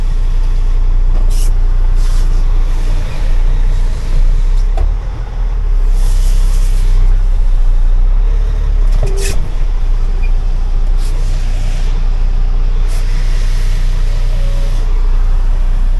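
Heard from the driver's seat, a lowbed truck hauling an excavator drives along with a loud, steady low engine rumble and road roar. Occasional sharp hisses and clunks rise over it.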